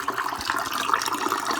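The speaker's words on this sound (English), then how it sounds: "Filling up my cup with water." Tap water runs steadily into a cup, a bright continuous splashing hiss that holds evenly for a moment, close by and without speech.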